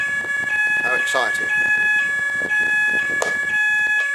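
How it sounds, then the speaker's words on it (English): A building fire alarm test sounds as a steady, piercing electronic ringing tone that runs continuously while a person talks over it nearby. "there's our fire alarm test."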